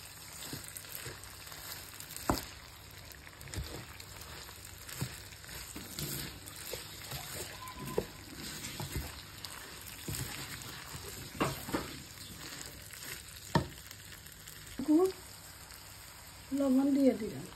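Green chillies sizzling in a hot pan with ginger-garlic paste, a steady low frying crackle with occasional stirring clinks and a louder spatter burst near the end, while someone talks over it.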